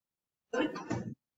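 A single sharp sneeze, close and fairly loud, with a quick two-part burst lasting under a second and then silence.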